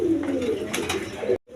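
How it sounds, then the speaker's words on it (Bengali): A pair of fresh racing pigeons cooing up close, a short, loud, throaty coo that cuts off abruptly into quiet. "দেখেন একদম ফুল ফ্রেশ কবুতর, গররা কবুতর।"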